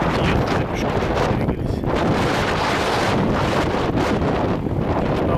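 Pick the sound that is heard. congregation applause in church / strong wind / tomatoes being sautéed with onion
strong wind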